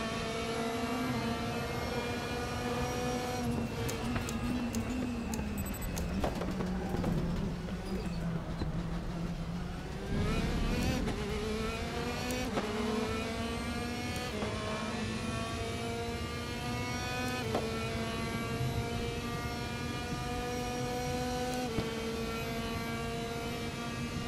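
A DTM 2016 race car engine in the RaceRoom video game drones steadily and loudly throughout, its pitch climbing through the gears with rising sweeps and dropping back at each shift, with no talk.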